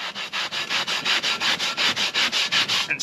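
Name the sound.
scrubbing rusty camp oven with scratchy pad and vinegar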